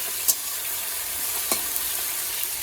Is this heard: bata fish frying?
yes